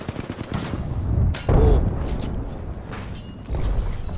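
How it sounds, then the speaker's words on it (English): Gunfire in the Apex Legends battle royale game, a burst of rapid shots with a heavier blast in the middle, fairly close and mixed with other game effects. "What am I getting shot by?"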